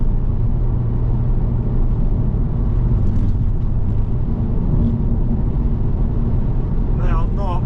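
A Cadillac BLS 2.8 V6 Turbo (Saab 9-3 Aero) on new wheels and brakes drives along with a steady low engine and road rumble, close and continuous, and a voice is briefly heard near the end.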